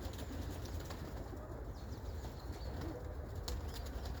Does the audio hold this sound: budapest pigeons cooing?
yes